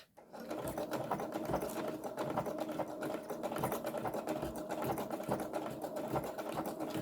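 Domestic sewing machine stitching through a thick journal cover stiffened with Mod Podge, a close, steady mechanical whirring and clatter of the needle running continuously, with slight changes in pace over lumpy layers.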